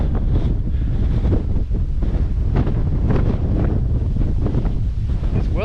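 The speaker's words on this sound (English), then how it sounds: "It's well windy." Strong wind batters the microphone on the Lindisfarne coast, a loud, continuous roaring buffet with gusty surges and no pauses.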